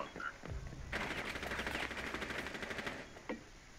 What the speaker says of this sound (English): He's shooting down through the hatch.